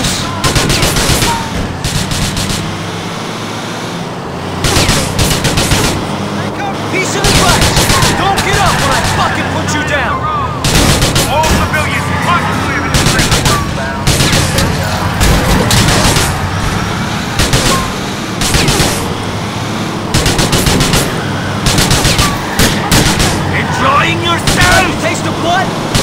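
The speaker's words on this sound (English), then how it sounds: "There's a box of grenades in here. Pass them up, Packie. I'll give them a taste of their own fireworks." Grand Theft Auto IV combat roars with rapid bursts of gunfire and heavy booming grenade explosions, loud and continuous, with a voice speaking briefly between the shots.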